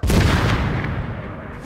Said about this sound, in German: Ja, Scharfschütze wieder mal.